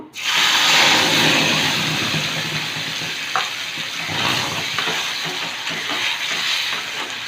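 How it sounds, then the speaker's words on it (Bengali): Black cumin and dried chillies in hot oil, then a spice paste added to the pan, giving a loud hissing sizzle that slowly settles into steady frying crackle with occasional stirring knocks. "একটু কালো জিরে একটু ভেজে নেব এবার পেস্টটা দিয়ে দেব"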